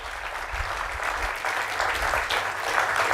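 Audience applause at a gala dinner during an innovation week event, steady dense clapping from a seated crowd held at an even level for a few seconds, with no voices standing out.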